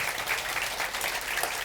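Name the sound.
audience applause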